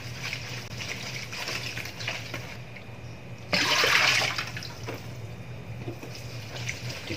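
Shredded papaya is washed in running water, a steady close splashing and gushing that swells louder for about a second midway, with no talking.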